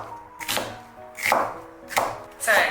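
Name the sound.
knife chopping soaked onion into thin strips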